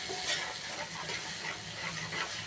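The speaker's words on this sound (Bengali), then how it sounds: "তারপর দেব টমেটো, আদা, জিরে বাটা। এবার মশলাটা কষাবো।" A paste of tomato, ginger and cumin sautés in a pan, giving a close, steady sizzle with soft stirring scrapes throughout, with no voices.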